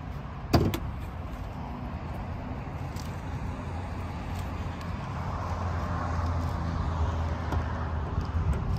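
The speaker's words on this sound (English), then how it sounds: "I'll pop the hood real quick." The hood of a supercharged 2022 Dodge Hellcat is popped open. A single sharp thunk of the latch comes early, then a steady low rumble of the surroundings carries on to the end.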